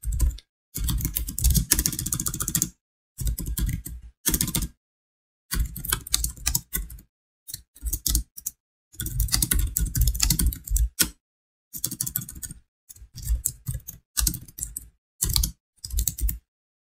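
Fingers type on a computer keyboard in irregular bursts of close, clicky keystrokes, broken by short silent gaps throughout.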